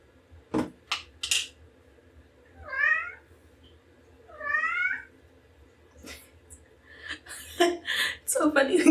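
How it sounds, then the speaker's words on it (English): Pet cats in a Chicago home give two drawn-out, rising meows a couple of seconds apart, close and clear, among scattered clinks and knocks that build into a busier clatter at the end. "It's so funny when cats meow."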